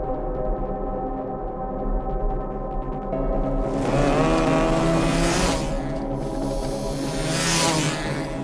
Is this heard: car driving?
yes